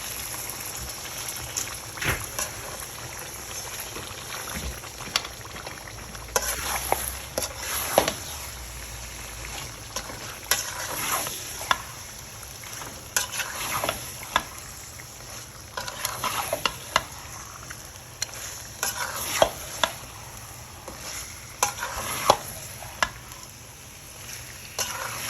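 Chicken being fried and stirred with spices in a pot while making chicken khichuri with mung dal, a continuous sizzle with repeated spoon scrapes and knocks against the pan, no talking.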